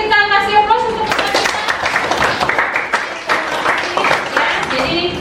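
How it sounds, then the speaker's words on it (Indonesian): A classroom of students breaks into applause and clapping after their teacher's lesson, a steady patter of hands over several seconds with a voice speaking over it. "Oke, kita kasih aplaus untuk kita."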